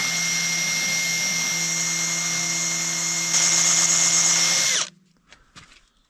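Carbide burr in a power tool grinding through the hardened top layer of a steel part while fixing a Kirovets tractor, a steady loud whine for about five seconds that rises slightly before cutting off, followed by faint clatter.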